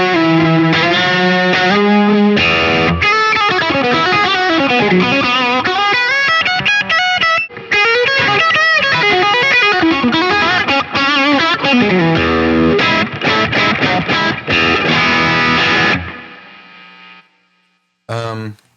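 An electric guitar runs through a Quad Cortex with a cranked Lightspeed overdrive stacked on top, playing thick, distorted, chorus-tinged chords and riffs for about sixteen seconds before cutting out, followed by a brief final burst.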